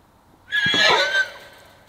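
A Standardbred horse lets out a loud, close whinny that rises, holds briefly and fades within a second, with faint hoof shuffles around it and nobody speaking.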